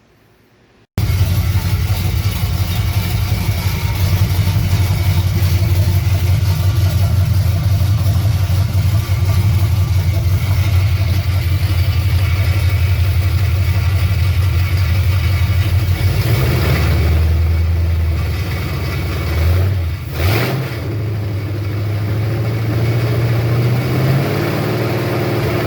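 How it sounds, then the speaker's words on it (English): A Chevrolet C-10 pickup engine runs steadily with a deep low rumble close by, the idle shifting briefly midway with a short dip and revs before settling back to a steady drone. "I'm going to get the truck spinned around and start it."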